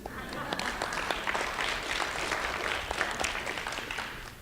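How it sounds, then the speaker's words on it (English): An audience at a community discussion event gives a sustained round of applause, dense steady clapping with a few sharper claps standing out, fairly close and continuous throughout. "Give yourself a round of applause for being so awesome"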